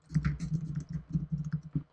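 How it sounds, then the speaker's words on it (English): Rapid, steady typing on a computer keyboard, close and clear, with quick key clicks in an even run and no talking. "So we'll type in some text here."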